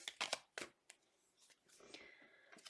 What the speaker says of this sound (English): Last shuffle, please, and thank you.